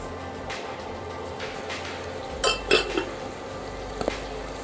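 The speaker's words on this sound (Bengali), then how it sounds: "আমি 5 মিনিটের জন্য ঢেকে দিচ্ছি।" A lid goes onto a pan of beef liver and potato curry with a couple of close metallic clanks and clinks near the middle, then a lighter tap later, over a quiet background.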